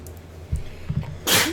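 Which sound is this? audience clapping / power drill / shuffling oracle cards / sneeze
sneeze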